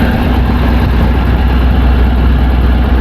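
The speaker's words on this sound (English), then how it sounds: "Then to shut it down, all we do is turn the ignition off." A Rotec Renegade radial engine runs with a loud, deep, continuous drone close by, steady throughout as the ignition is about to be switched off.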